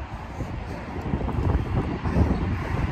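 Wind blowing outdoors, buffeting the microphone as a low, uneven rumble that swells and eases throughout, close and fairly loud.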